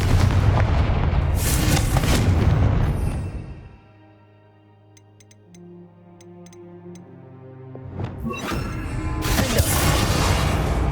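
Confringo blast spells in the Hogwarts Legacy game, heavy booming explosions at the start and again near the end, separated by a quieter stretch of faint ticking tones.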